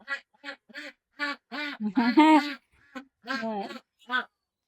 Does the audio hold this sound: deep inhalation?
no